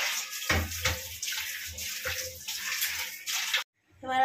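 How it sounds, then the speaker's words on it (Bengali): Cut green jackfruit and potato pieces are washed under running water, splashing and gurgling close by in continuous uneven surges, with a brief drop to silence near the end. "এঁচোড়টা আলুটা কেটে নিয়েছি, এবার এটা ধুয়ে নেবো"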